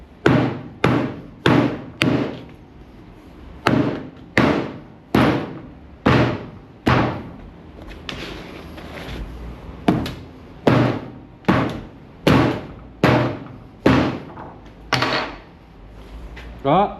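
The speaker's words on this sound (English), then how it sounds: "Now, let's try the hatchet." Hatchet chopping into a Brunt work boot, about two dozen heavy thudding blows in quick rhythmic runs with brief pauses, close and loud, with a short spoken exclamation.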